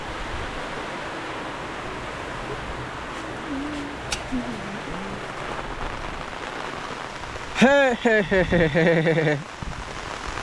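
Steady light rain patters across an African village, a continuous wash of drops on surfaces with a brief voice calling out and a short burst of bright chirping near the end.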